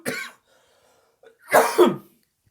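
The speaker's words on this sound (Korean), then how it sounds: "이거 기침 날 것 같아. 목 간지러워." A teacher in a high-school math lesson coughs with a tickly throat: one short cough, a pause, then a louder double cough close to the microphone, with silence between.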